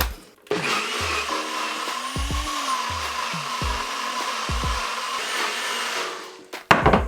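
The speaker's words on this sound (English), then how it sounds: "So at this point, we're ready to blend." A blender purees homemade vegan BBQ sauce with added water, a loud steady whirring motor running nearly the whole time, starting abruptly and cutting off near the end, with a few low thumps and knocks along the way.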